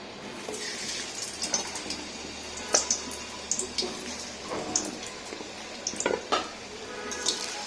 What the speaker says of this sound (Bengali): আমাদের আলুটা ভাজা হয়ে গেছে